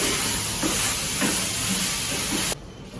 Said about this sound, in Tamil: இது ஒரு 2 நிமிஷம் வதக்கிட்டு தக்காளி கொஞ்சம் சாஃப்டானு எடுத்துடலாம்.